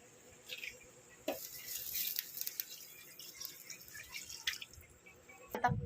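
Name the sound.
water poured into cooking pot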